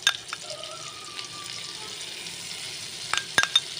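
Butter and oil heat in a frying pan with a soft, continuous low sizzle and hiss close by, joined by a few light clinks and taps of a utensil, without any talk.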